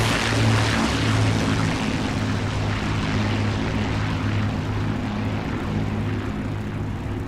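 An aircraft engine in the DCS flight simulator game drones loudly and continuously while readied for takeoff, a steady propeller-like hum with layered low tones and no pauses.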